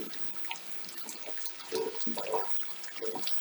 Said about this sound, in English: Just a dash of water to avoid it sticking